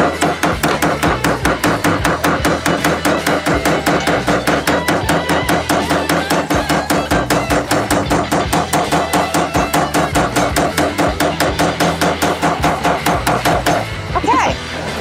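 Rapid, steady hammering on wood with a makeshift tool rather than a real hammer, dozens of sharp strikes in a fast even rhythm, loud and close, stopping just before the end.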